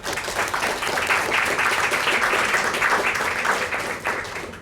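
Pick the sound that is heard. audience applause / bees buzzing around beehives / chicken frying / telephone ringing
audience applause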